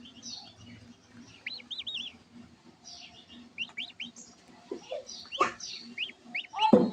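Ducklings peep while they feed, with repeated thin, high chirps in short bursts, then some louder close knocks and rustles toward the end.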